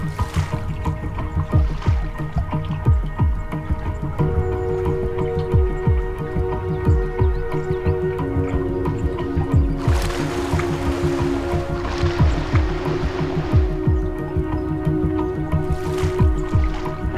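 A kayak being handled and launched on the Kunene River, with repeated squishy knocks, scrapes and water sloshes, bursts of splashing midway, and a steady background drone throughout, no voices.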